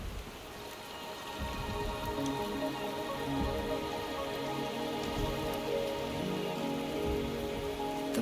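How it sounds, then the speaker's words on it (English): Steady rain in the video game Wuthering Waves patters continuously on a surface, a dense, even hiss of droplets with no voices. "The rain is subsiding, and the sky will soon clear."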